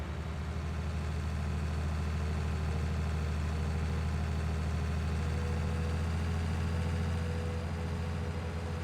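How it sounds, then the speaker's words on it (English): A tractor engine in Farming Simulator 19 drones steadily at low pitch, an even, continuous rumble at a constant level without pauses or other sounds. "I'm just going to pull the tractor back."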